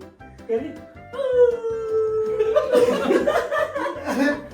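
A person mimics a small puppy's high yelping bark and howl in an animal voice game, a few whiny drawn-out cries followed by laughter and chatter from others nearby.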